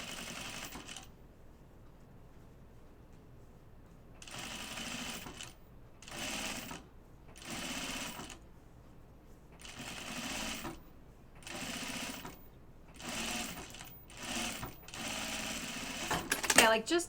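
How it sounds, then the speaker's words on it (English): A domestic sewing machine under-stitching double gauze fabric runs in repeated short bursts of steady whirring with brief pauses between them, close and moderately loud. Quiet talk is heard in between. "so when I'm under stitching the double gauze"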